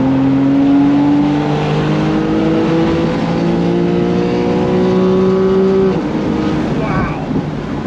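A 2013 Porsche 911 Carrera 4S Cabriolet with PDK gearbox accelerates hard from 70 mph, its engine note climbing loudly through successive gear changes with a rising, rasping howl, heard from close by.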